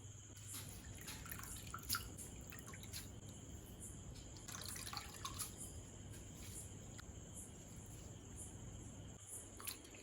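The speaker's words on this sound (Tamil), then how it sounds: "அதனால நல்லா வடிகட்டி சுத்தமாக தண்ணி இல்லாத புழிஞ்சிடணும்." Water drips and trickles in small irregular taps as grated potato is squeezed and strained for potato carrot bonda. The sound is quiet and close, with faint cricket-like ambient chirps in the background.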